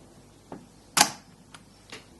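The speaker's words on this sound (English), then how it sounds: "Let's fire the shutter." A sharp mechanical shutter click of a Soviet Fed rangefinder camera rings out clearly, framed by softer clicks of the mechanism before and after, in a quiet room.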